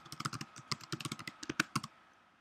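Keys clatter on a computer keyboard in a quick, irregular burst of close, crisp clicks, ending in a couple of firmer presses before stopping, with no one speaking.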